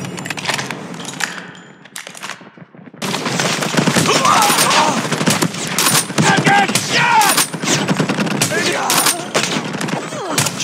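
Gunfire in Call of Duty Mobile, dense rapid bursts and crackling shots building after a quieter opening, with game voice callouts mixed under the shooting.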